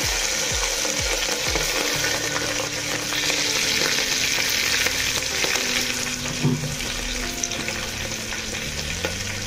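Panch phoron and green chilies fry in a clay pot, giving a loud, dense sizzle with crackling spits and a few stirring scrapes, continuous and close.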